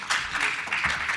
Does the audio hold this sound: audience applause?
yes